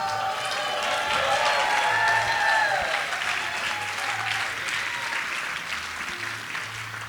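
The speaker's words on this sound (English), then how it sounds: "everyone will give you a round of applause" A large wedding reception audience applauds steadily for several seconds, clapping swelling and then gradually fading, with a few faint whistles or cheers mixed in.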